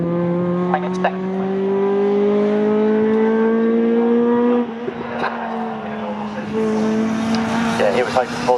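Racing saloon cars from the Classic Thunder Saloons and Jaguar Challenge race at Snetterton circuit roar past, a loud sustained engine drone rising in pitch, with further cars passing near the end and commentary voices faintly underneath.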